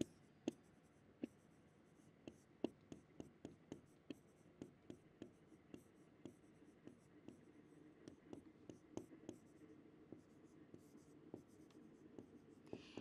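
Writing on a classroom board while setting out the structure of a logic proposition: a steady run of quick taps and scratching strokes, close and fairly quiet, with short pauses between bursts.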